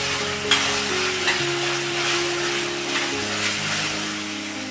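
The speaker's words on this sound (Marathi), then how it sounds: "मी जिरं टाकते जिरं टाकायचं" Cumin seeds sizzle in hot oil for soybean burji with a steady, loud, close frying hiss, broken by a few light spoon scrapes and taps against the pan, and no voices.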